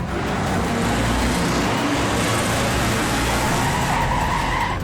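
Taxi racing around a turn on a track in its final lap: a loud, sustained roar of engine and tire noise with a rising squeal toward the end, close and continuous, with no talking.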